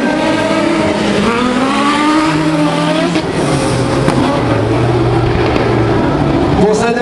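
D2 Libre autocross race car at Faleyras in 2011, its engine revving hard and shifting through gears on a dirt track, loud and continuous, with a commentator's French voice running over it.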